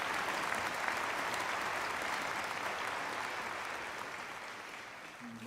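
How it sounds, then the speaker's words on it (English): Audience applause at an opening ceremony and plenary session, a dense sustained wash of clapping that holds steady and then tapers slightly toward the end. "Shall we offer a round of applause to Reverend Moon and Dr. Moon?"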